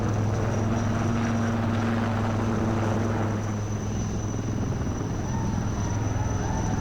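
A HAL Dhruv helicopter flies steadily overhead, its rotor and engine a constant drone that stays even throughout, without speech.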